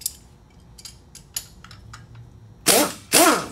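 Ratchet wrench loosening a strut nut on a Nissan Sentra: a few faint scattered clicks, then two loud, close, sweeping bursts of rapid ratcheting near the end, with no speech.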